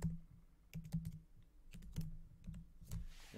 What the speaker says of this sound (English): So we're just typing that up.